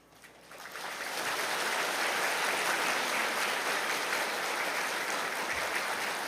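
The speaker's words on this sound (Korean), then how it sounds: "우리 모든 교사 선생님들을 위해서 한번 축복의 박수를 올려드리겠습니다" A church congregation at a Korean Sunday worship service breaks into applause for its teachers, the clapping swelling over the first second into a thick, sustained wash of hands that stays steady to the end.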